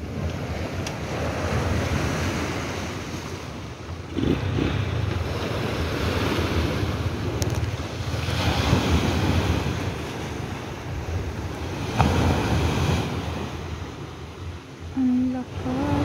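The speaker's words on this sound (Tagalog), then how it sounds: "kaya ganyan sigurong malakas ang alon" Strong waves at an ocean beach roar continuously in surges alongside heavy wind buffeting the microphone, loud and close, with a person speaking briefly near the end.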